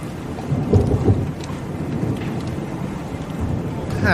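A low, rumbling boom of distant gunfire rolls beneath steady rain-like noise, muffled and far off rather than sharp.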